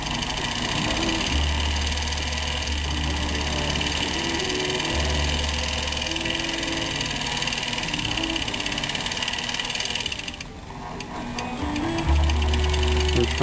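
A sewing machine winds a bobbin at a deliberately slow, barely sustained speed, giving a steady mechanical whir with faint ticking and a low motor hum that briefly stops and restarts near the end.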